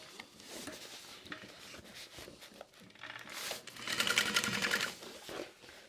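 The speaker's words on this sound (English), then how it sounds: "it's very helpful in the end when you're sewing everything together" Sewing machine stitching through the layers of a backpack along the bottom seam, with a steady motor whir in bursts that grows louder and faster midway, plus faint handling rustle of fabric.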